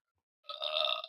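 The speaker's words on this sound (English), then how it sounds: "Oh, that was a burp." A single close burp rises after a moment of silence and holds for about half a second, a buzzy, voiced belch with no talk around it.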